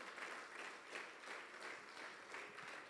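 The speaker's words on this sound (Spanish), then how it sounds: "Dale un fuerte aplauso al Señor." A church congregation applauds together in steady, sustained clapping that swells and dips slightly over a few seconds, moderately faint and without voices on top.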